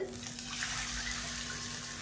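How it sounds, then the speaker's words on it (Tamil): Water pours steadily into a pan of fried coconut while making rice-flour kozhukattai sweets for Vinayagar Chathurthi, a continuous close splashing stream with a low hum beneath and no talking. "இப்போ இந்த ஸ்டேஜில் நம்ம தண்ணி சேர்த்துக்கலாம்."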